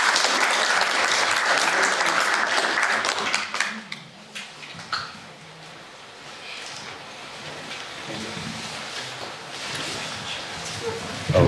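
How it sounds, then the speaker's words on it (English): Audience applause at an international film festival event, loud and full for the first few seconds, then dropping away quickly to a quiet room with faint movement and murmurs. "Then let's give applause."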